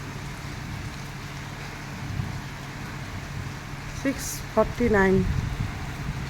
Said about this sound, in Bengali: এই বৃষ্টি বৃষ্টি বৃষ্টি বৃষ্টি পড়ছে, প্রচুর বৃষ্টি পড়ছে।